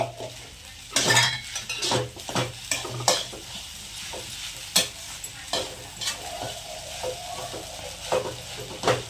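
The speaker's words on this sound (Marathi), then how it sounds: "मग पुन्हा एकदा सगळं हलवून घ्यायचं व्यवस्थित." Sabudana khichdi stirred in a pan with a spoon, irregular scraping and clinking strokes against the metal over a faint background, no talking.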